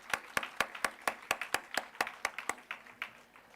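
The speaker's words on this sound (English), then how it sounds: "Let's give him a big round of applause, guys." A small audience at an academic colloquium session claps in a sparse, distinct round, about a dozen individual claps heard clearly and fading toward the end.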